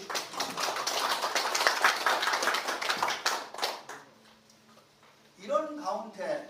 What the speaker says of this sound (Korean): 동의하시면 큰 박수 주십시오.